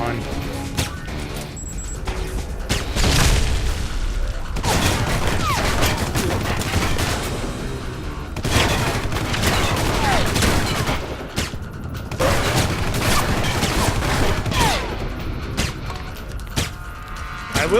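Sustained gunfire from the video game Alpha Protocol, bursts of rapid shots and crashes running almost continuously at a loud, steady level, with someone talking over it at times.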